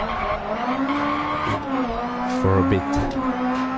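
Rally cars race in a DiRT Rally online rallycross event, Peugeots and a Corsa battling close together, their engines droning and shifting pitch steadily while a commentator talks over the racing.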